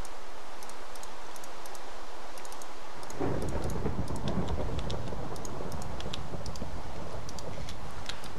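Rain falls in Minecraft with a constant loud hiss that suddenly thickens partway through into a heavier, rumbling downpour, like thunder rolling in, alongside sparse ticking clicks and no speech.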